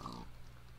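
A single short pig oink from the video game Minecraft, heard as a brief, fairly low in-game grunt that fades into quiet background game audio.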